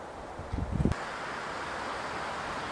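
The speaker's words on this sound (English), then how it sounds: "Still pretty windy." Wind from a winter storm with light snow, a steady broadband roar with a brief rustling gust near the start, then a constant outdoor blow.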